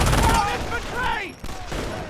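Dense gunfire and explosions crackle continuously in a Company of Heroes battle, loud and close, with overlapping bursts and a booming low rumble; a voice shouts through the din.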